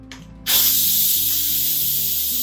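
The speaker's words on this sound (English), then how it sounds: "it just lets all the steam out" Sudden loud hiss of steam bursting from an Instant Pot pressure release valve after cooking pinto beans, starting abruptly after a quiet moment and holding steady with a faint low hum underneath.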